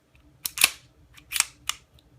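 Sharp metallic clacks as the slide of an empty Wilson Combat CQB 1911 .45 pistol is racked and released, about four crisp clicks in quick pairs, close and clear with no talking.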